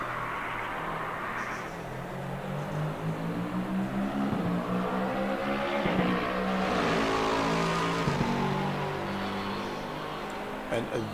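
Race cars going past on track in the Assetto Corsa Competizione racing game on PS4: several engine notes rise and fall in pitch as they pass and fade, heard at a moderate distance behind a continuous mechanical drone.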